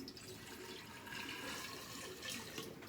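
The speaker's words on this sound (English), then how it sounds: "I'm going to pour my first quart in." A quart of water pours steadily into a jar holding two ounces of lime, a continuous close splashing rush that swells slightly midway and runs for about three seconds.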